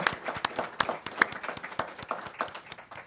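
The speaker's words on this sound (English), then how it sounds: "We can give a quick round of applause for the second lightning round" Audience applause after a panel discussion's lightning round on public school options, moderately close with distinct individual claps in a lively, uneven rhythm.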